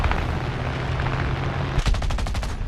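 Machine-gun fire from a P-47M Thunderbolt fighter in War Thunder air combat, a steady loud engine drone that breaks into a rapid burst of evenly spaced gunshots near the end.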